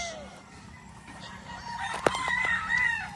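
Old tethered roosters, two to three years old, crow and cluck at moderate distance, one sharp crow rising near the end over a low background murmur.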